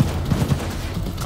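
Brief, muffled volley of gunfire in Cyberpunk 2077, low and thudding, packed into just over a second with no clear breaks between shots.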